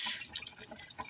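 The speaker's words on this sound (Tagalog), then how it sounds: "Lagyan natin ng patis." Fish sauce (patis) poured into a pot of coconut milk and chicken stew, a short soft liquid trickle and drip, faint and close.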